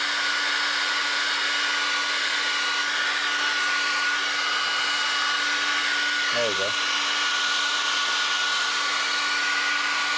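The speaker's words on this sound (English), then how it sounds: "The hair dryer makes it liquid." A hair dryer blows continuously with a steady whining hum and airy rush, used to liquefy material during mask-making; a voice briefly speaks over it partway through.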